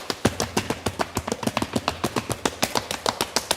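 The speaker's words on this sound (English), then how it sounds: "Let's play 1 bar of flat-footed stomping and 1 bar on the ball of a foot" A bass drum is struck with flat-footed stomping on the pedal, a close, loud run of evenly spaced low thumps in a steady beat, about six hits per second.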